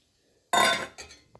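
Boiled dal being mixed in a pot for pappu charu, heard as one sharp metallic clatter of a spoon against the vessel, then a softer knock and a faint final tap.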